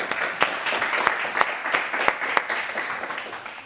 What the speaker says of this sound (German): Ich finde, das hat einen Applaus verdient.